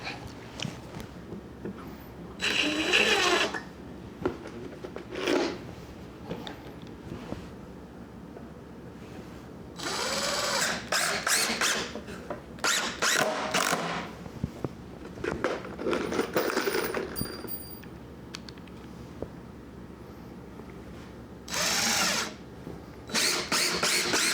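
A power drill drives construction screws into 2x4 lumber for a workbench leg, in several loud whirring bursts of a few seconds each, separated by quieter pauses with handling clatter.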